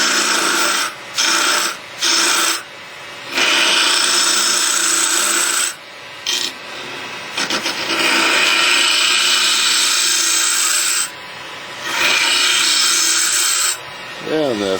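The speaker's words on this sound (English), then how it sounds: "we'll go to the scraper" A hand scraper works across wood in a series of dry, rasping strokes, each separated by brief pauses, close and fairly loud with no voices.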